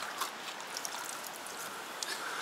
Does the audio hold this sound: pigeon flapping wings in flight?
no